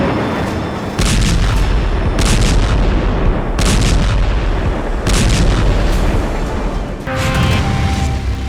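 Heavy bombs, reported as 2000 kg, explode during airstrikes on Rafah, a series of loud booming blasts repeating every second or so with continuous rumbling in between, no talk.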